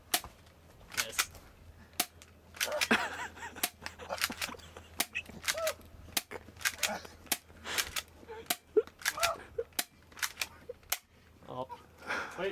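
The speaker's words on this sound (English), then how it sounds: "we're going to be firing at Professor Yalc to see how projectiles work" A toy gun fires projectiles again and again, sharp snapping shots at irregular intervals about a second apart, with people talking between and under the shots.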